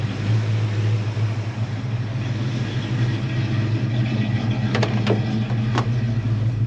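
A 1965 Chevy C10 pickup with a column-shift three-speed manual being driven, a steady low engine rumble and drone heard from inside the cab throughout, with a few brief clicks near the end.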